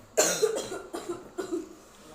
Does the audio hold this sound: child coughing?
yes